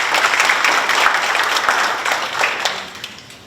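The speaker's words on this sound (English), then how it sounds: "give them a round of applause as well" A short burst of audience applause at a State of Schools address held at Granville Academy, loud and close at first, then thinning out and fading over a few seconds.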